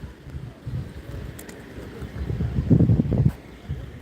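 Wind gusts buffet the microphone outdoors during a walk in Belfast, a low rumbling roar that swells to a strong blast near the end.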